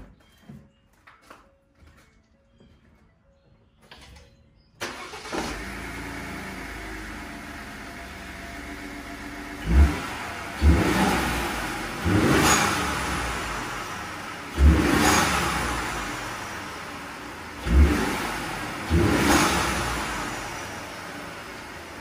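A Ford F150 pickup's 2.7 engine with a VTA mod cranks and catches after a few quiet seconds of shuffling, then idles and is blipped through five or six loud, sharp revs that rise and fall in steady succession, close by.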